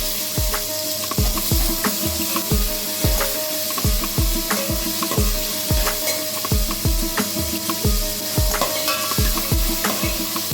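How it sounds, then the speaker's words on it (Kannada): Hyacinth bean dal fries in hot oil with a steady loud sizzle, punctuated by a rapid, regular series of spoon-on-pan scrapes and taps as it is stirred. "ಎಣ್ಣೆ ಬಿಸಿ ಆದ ನಂತರ ಅವರೆಕಾಳು ಬೇಳೆ ಹಾಕ್ಕೊಂಡು ಫ್ರೈ ಮಾಡ್ಕೊಳ್ಳೋಣ."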